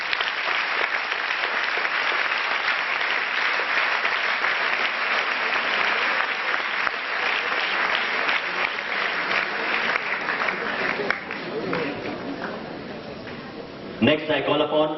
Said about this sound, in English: I would request you to please give him a big hand.